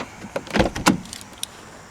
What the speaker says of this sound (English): Now we're going to turn this key off and then open the door.